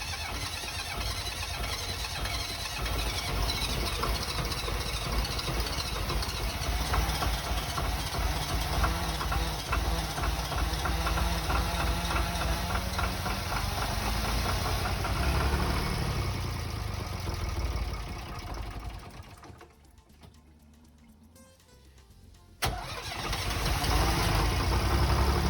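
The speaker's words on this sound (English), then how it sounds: "And then of course it's time to start the engine." A Volvo Penta MD17C marine diesel boat engine cranks and runs with a steady, loud idling rumble and knocking beat, briefly cuts out near the end, then restarts and idles again.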